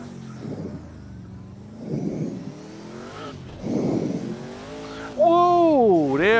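An Audi Quattro V8 engine in a racing video game, revving up and down in rising and falling sweeps through the gears, loud and close, ending in a strong high-pitched wail.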